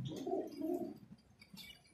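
A large, old domestic breeder pigeon gives a low, throaty coo that rolls and wavers for about a second, then fades, heard close and quiet with a few faint chirps from other birds behind.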